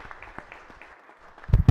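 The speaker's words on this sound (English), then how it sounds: "Let's give a warm round of applause for the folks up in the gallery." Applause for visitors in a state Senate gallery, a brief burst of clapping that swells loudly at the very end after a quiet stretch.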